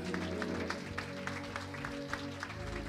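A church congregation claps loudly at a lively service, steady rhythmic applause in a large room over a sustained musical backing.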